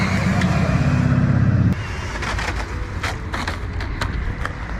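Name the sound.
MHD Pro Stinger brushless RC drift car driving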